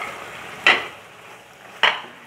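Cucumber goes into a pan of ghee masala for a Rajasthani sabzi, giving two sharp, close utensil clinks about a second apart over a faint, low sizzle, with no one talking.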